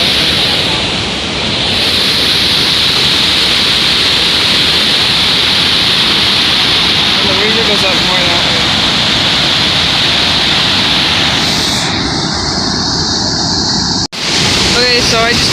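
A powerful waterfall in Mexico roars as a dense, constant wash of rushing water, loud and close, while a person talks briefly over it.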